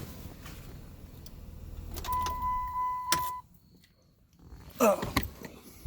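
A broken-down car being switched off: a low running hum with a faint tonal whine ends in a sharp click, dropping to near quiet before a few brief mechanical clicks and rattles close by.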